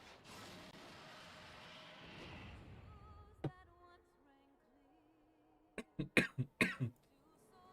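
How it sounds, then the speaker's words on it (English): Several short, sharp coughs come close to the microphone in a quick cluster near the end, after a soft noisy stretch and a single earlier click, with game sounds faint underneath. "Sorry for all the coughing in the mic"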